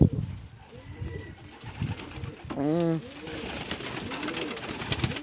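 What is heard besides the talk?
pigeons cooing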